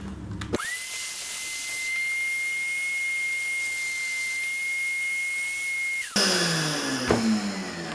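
A vacuum cleaner runs in a home workshop, giving a steady whining hiss with a sharp high tone that holds for several seconds. It then cuts off abruptly, leaving rustling and clatter behind.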